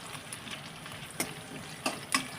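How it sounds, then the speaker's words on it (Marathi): Whole red chillies, added to a pan of hot oil with green chillies and curry leaves for a dal tempering, sizzle and fry with a soft continuous crackle and a few sharper pops, fairly quiet and close. "आता त्यामध्ये घालायचे लाल मिरची अख्खी."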